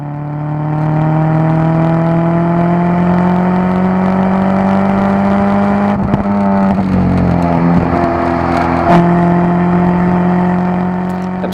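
Subaru Legacy wagon on track at High Plains Raceway, battling a Honda Civic Type R: a loud, steady engine drone with rising and falling revs, brief shifts around the middle, continuous and close throughout.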